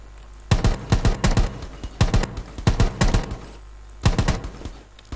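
Rapid bursts of automatic gunfire in the battle-royale game Rules of Survival, several sharp volleys of shots in quick succession with short pauses between them, loud and close.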